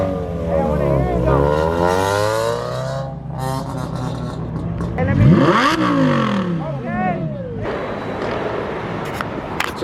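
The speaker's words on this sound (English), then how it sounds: "once one person starts revving," Several car engines rev hard in overlapping bursts at a car meet, rising and falling in pitch, with crowd noise and shouting mixed in.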